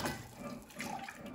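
Milk is poured into a pot of mashed potatoes on a home kitchen stove, giving a faint, steady liquid trickle that runs unbroken for the short stretch.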